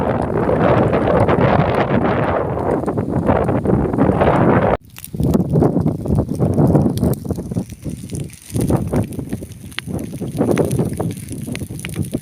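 Strong wind gusts roar across a burning harvested rice-paddy field being cleared for chili planting, loud and close with buffeting against the microphone, a brief drop midway before the blustery rush resumes.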